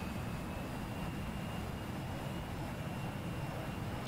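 Su-27 Flanker jet taxiing on the ground in DCS World, a steady, even engine roar with a faint high whine held throughout, with no talk.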